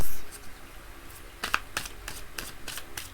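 Tarot cards are shuffled in a series of crisp, quick riffles and flicks, close by and fairly soft, with small rustles between them.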